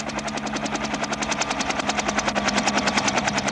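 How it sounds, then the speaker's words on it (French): Helicopter rotor thumping steadily and loudly in a rapid, even beat, growing slightly stronger before cutting off abruptly. "Ah, tiens, un hélico."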